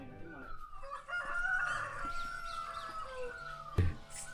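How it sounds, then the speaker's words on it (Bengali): Birds calling in a quiet rural setting in the Darjeeling hills, with a rooster crowing prominently alongside other fowl clucking and chirping, plus a short thump near the end. "দূর থেকে ভেসে আসছে নানাবিধ পাখির শব্দ আর বয়ে চলা হাওয়ার শব্দ"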